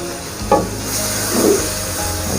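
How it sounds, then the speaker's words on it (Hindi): Chicken pieces sizzle and fry in masala in a karahi, a steady crackling hiss with a soft clack of stirring around the half-second mark and again near the middle. "अब इसको मैं इस मसाले में पकाता हूँ जी"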